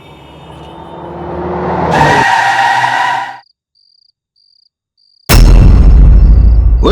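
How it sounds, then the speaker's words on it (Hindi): Car braking hard with jerks on a highway near Gurgaon, a loud rising rush that stops abruptly around two seconds, then a faint intermittent beep before a sudden loud burst of noise returns. "इतने झटके देके क्यों ब्रेक लगा रहा है भाई?"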